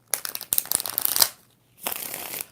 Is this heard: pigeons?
no